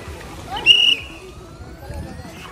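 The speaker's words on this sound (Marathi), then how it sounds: "शिट्ट्या मारून मारून दमले लोक" A single short, shrill whistle blast rings out at a rainy-season water park, over a bed of distant crowd murmur and splashing water.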